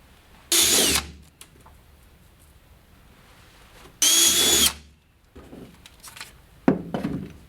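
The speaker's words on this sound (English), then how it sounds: "Drill those." Two loud bursts of a power drill driving screws into a kayak pedal drive assembly, whirring about half a second each, separated by quiet, followed by a few soft clunks and taps.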